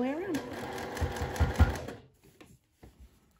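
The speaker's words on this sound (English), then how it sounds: "line the left side of my presser foot up with the left edge of this hem and just sew all the way around" Up close, a sewing machine stitches around a sundress hem in a steady mechanical whir that runs for about two seconds and then stops, with a person talking quietly over it.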